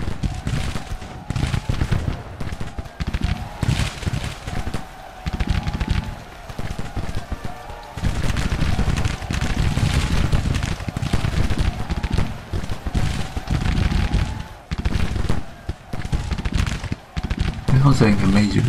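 Massed musket and artillery fire from a Civil War battle in the strategy game Grand Tactician, a dense, continuous crackle of volleys and booms rolling on steadily throughout, with a voice talking over it.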